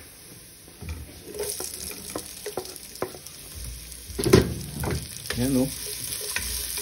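Onions fry in a pan for dinuguan with ginger, crackling sizzle and clattering stirring bursts; a brief word is spoken partway through.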